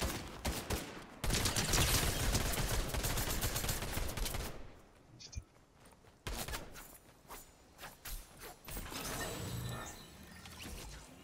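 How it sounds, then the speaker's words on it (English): Rapid bursts of automatic gunfire ring out in a Fortnite match, dense volleys separated by brief lulls and a few quieter mechanical clicks, fairly close. "there's somebody shooting right over here"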